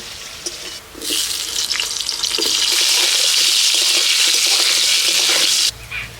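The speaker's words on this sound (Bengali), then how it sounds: "মাছ ভাজার তেলের মধ্যে কয়েকটা কাঁচা লঙ্কা ভেজে নিচ্ছি কাঁচা লঙ্কা ভাজা হয়ে গেছে" Pointed gourd hits hot oil left from frying fish, in a village kitchen, setting off a loud, close, bright sizzle that starts abruptly and holds steady for several seconds before cutting off.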